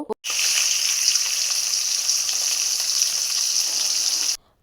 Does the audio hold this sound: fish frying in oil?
yes